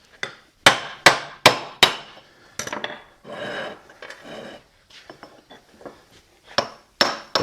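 A hammer striking a chisel to split an old brake rotor from the hub on a 1965-66 Ford Thunderbird, a series of loud sharp metallic blows, several in quick succession, then lighter scattered taps and clinks.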